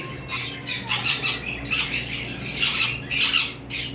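Harsh, shrill bird squawks repeat in bursts, loud and close, over a steady low hum in the background.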